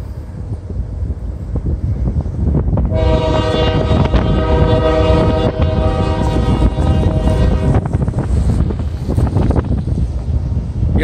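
A long CSX mixed manifest freight train rolls through a street crossing, a steady rumble of wagons under wind buffeting, while the locomotive horn sounds one long sustained blast for about five seconds mid-passage.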